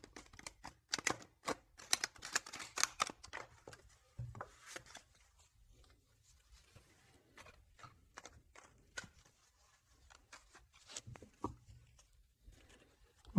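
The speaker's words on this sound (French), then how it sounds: "Je vais faire un petit peu de bruit pour bien mélanger les cartes" Tarot cards are shuffled in quick, crisp bursts of riffling and slapping, loudest at the start, then thinning into scattered light taps and flicks, close and fairly quiet.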